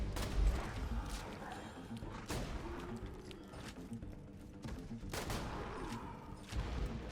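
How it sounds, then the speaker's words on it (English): A Jakobs legendary shotgun in Borderlands 2 booms with heavy, thudding blasts every second or two, layered with crashing impacts and game noise in a dense, loud mix. "This is a pretty sweet shotgun."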